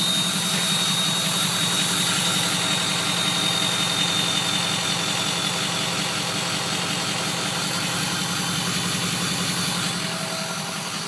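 Diesel engine idling through a new exhaust, a steady close rumble with a rhythmic low pulse and throaty drone, moderately loud and unbroken for the whole stretch, no talking over it.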